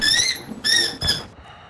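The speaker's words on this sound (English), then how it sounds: "it's my fucking dog squeaking his balls" A dog's squeaky toy ball squeezed three times in quick succession, each a shrill, high-pitched squeal, close and clear over faint background noise.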